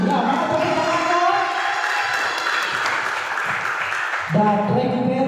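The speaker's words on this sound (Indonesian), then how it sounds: "Ya, mana tepuk tangannya?" Crowd applause and cheering for a boys' team at an Islamic quiz competition session, steady and loud throughout, with voices shouting over the clapping and a burst of louder cheering near the end.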